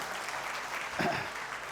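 A conference audience at the FiTEN 2025 event claps steadily, a soft even wash of applause heard from within the hall with a brief swell near the middle.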